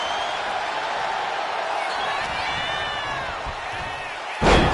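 A German suplex lands in the WWE 2K25 wrestling game, with the arena crowd roaring throughout and a few whistles rising over the noise. A sharp, heavy slam hits loud near the end.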